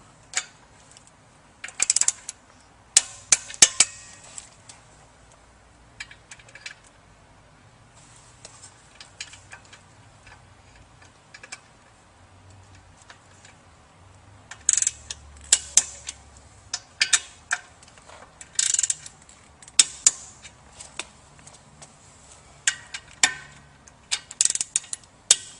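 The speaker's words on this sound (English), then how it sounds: "we'll go ahead and torque down the motor bolts." A ratchet tightens the motor bolts on a Pentax horizontal centrifugal pump, giving bursts of quick close clicking separated by quiet pauses, alone without speech.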